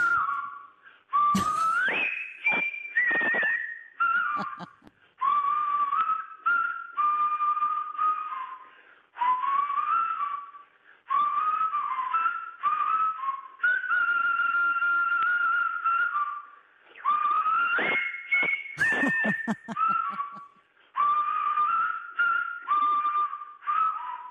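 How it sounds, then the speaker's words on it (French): A caller whistles the march from The Bridge on the River Kwai over a telephone line, a strong, clear melody in phrased bursts with brief pauses, close and alone with faint crackle. "moi aussi je siffle bien et je siffle très bien le pont de la rivière Kouai"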